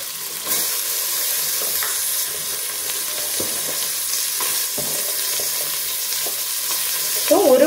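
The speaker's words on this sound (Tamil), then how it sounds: "இது எல்லாத்தையும் நல்லா வதக்கிடலாம்" Sliced onions and green chili sauté in a hot pan for paneer biryani, a steady close sizzle broken by scraping stirs, with a brief louder crackle at the end.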